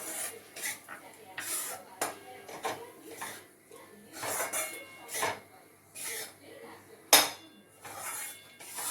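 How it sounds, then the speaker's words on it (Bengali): Besan fries in ghee in a kadai while a metal spoon scrapes and clinks against the pan in irregular strokes, with one sharp clang, fairly quiet with faint background noise. "হ্যাঁ, বেসনটা ভাজা হয়ে গেল ঘি দিয়ে।"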